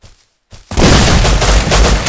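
Loud gunfire in the survival game Rust: after a short pause, a dense, continuous close-range burst of rapid shots fills the rest of the moment without any talk.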